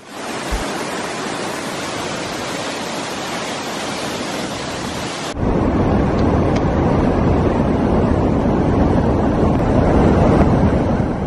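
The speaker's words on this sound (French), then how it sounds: "c'est une véritable rivière impétueuse qui s'échappe des éboulis" A rushing river torrent pouring out of scree at a cave entrance in a karst system, a loud, dense, unbroken roar of water that jumps to a deeper, heavier rumble partway through, with no voices.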